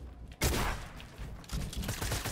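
Loud gunfire bursts in a video game 1v1 match with building, a heavy volley erupting suddenly, easing off, then a second burst of rapid shots following close behind.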